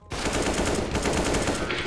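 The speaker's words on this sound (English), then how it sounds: "Oh, they have an auto sniper, bro." Rapid auto sniper gunfire in the video game CS:GO, a dense, loud burst of repeated shots that continues almost unbroken for about two seconds, heard on its own.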